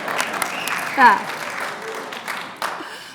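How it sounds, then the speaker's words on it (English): Audience applause at a city's annual State of the City address, a modest, steady patter of clapping from the crowd lasting a few seconds, with voices audible over it. "pause for riotous applause"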